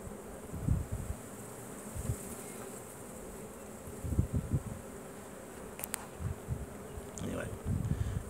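Steady insect buzzing from many Carniolan honey bees at an open hive fills the background, with soft low bumps and brief handling noises scattered throughout.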